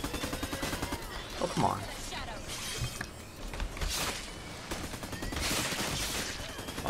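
Rapid, repeated gunfire in the LawBreakers video game, with a steady rattle of shots running through the whole stretch and someone talking over it.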